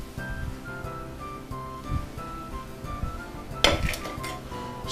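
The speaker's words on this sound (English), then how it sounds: "I'm going to mix that right in." Utensil clinking and scraping against a bowl while lemon zest is stirred into sugar cookie dough, a steady run of light clatter with one louder knock near the end.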